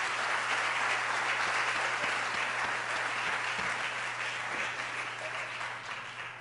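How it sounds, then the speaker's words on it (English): Audience applause for a panel at a Harvard Law School town hall, a steady wash of many hands clapping that holds for several seconds and slowly tapers off, with a low hum underneath. "So I want to just thank the panel. If everybody else could give them applause."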